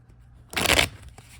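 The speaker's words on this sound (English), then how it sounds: "I'm going to shuffle each of the decks, if I can remember, just a few more times before I deal the cards." A tarot deck is shuffled in one quick riffle, a short, close burst of flicking cards after a near-silent moment, then fading.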